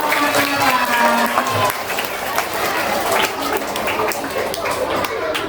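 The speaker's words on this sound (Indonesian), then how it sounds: "tepuk tangan dulu buat STS 20." A crowd of elementary school children at an anti-bullying event in Mataram, Indonesia, clapping and cheering together, steady and lively for several seconds, with voices mixed into the applause.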